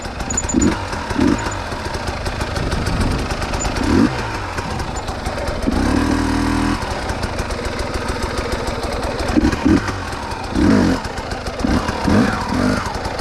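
A hard enduro motorcycle working up a steep dirt wall on a loop trail, its mid-pitched engine droning steadily and surging in repeated bursts of throttle as the bike climbs, close and loud throughout.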